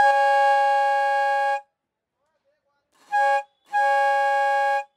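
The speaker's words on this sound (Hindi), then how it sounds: "बजा के दिखाता हूँ आपको कैसा है, इसके अंदर बेसिकली प्रेशर क्रिएट होता है थ्रू दिस पावर और तब जाके ये यहाँ से हॉर्न करते हैं" An electric pressure horn for trucks, running on AC supply, sounds up close in a steady bright tone, first one long blast, then a brief pause, a short toot and another long blast.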